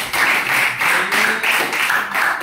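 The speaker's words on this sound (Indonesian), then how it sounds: "Kita tepuk tangan dulu untuk dia." A classroom of students in a Catholic religious education lesson clapping together for a classmate, a short burst of rhythmic, fairly close claps in uneven pulses.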